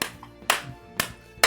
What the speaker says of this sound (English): I'm gonna start clapping